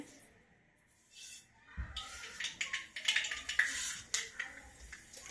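Mustard seeds crackling in hot oil: sharp popping and crackling bursts break out in the pan after a quiet start, growing busier and louder.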